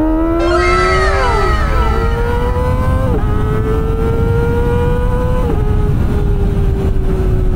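Kawasaki Ninja ZX-25R four-cylinder motorcycle screaming through the gears while riding, loud high-pitched engine whine climbing steeply then dropping at each upshift, with constant wind rush throughout.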